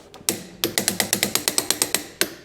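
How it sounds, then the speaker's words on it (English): A torque wrench ratcheting on the output shaft of a BMW E31 850 V12, a quick run of about a dozen sharp, evenly spaced metallic clicks, close and loud. "let's torque the output shaft as well"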